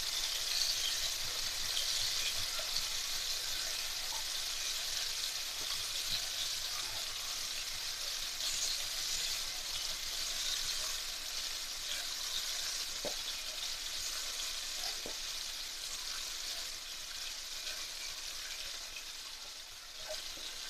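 Dried curry leaves frying in hot oil for a Kerala prawn fry lunch, a steady close sizzle and hiss with faint crackles and an occasional small tap, no voices.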